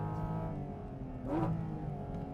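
A 2022 Porsche 911 engine revs hard toward its 9,000 RPM redline, a rising whine surging in the middle and then settling. It is recorded from inside the car, fairly faint, with no talk.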